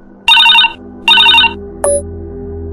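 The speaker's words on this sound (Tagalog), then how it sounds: "Agad naman dinampot ni Rocky ang cellphone at saka sinagot ang tawag." A cellphone ringtone used as a sound effect in a Tagalog horror audio story: two loud electronic ring bursts in a row, then a short beep as the call is answered, over a quiet background hum.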